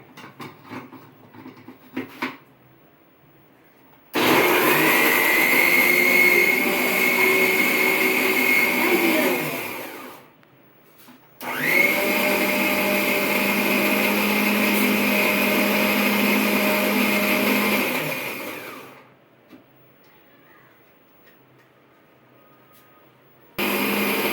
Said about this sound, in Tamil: இப்போ பூண்டு அரைச்சிக்கலாம்